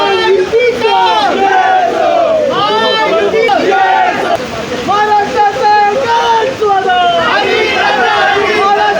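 A crowd of NCP Ajit Pawar group supporters in Thane celebrating an election win, loud massed chanting and cheering voices that rise and fall in waves throughout, close and continuous.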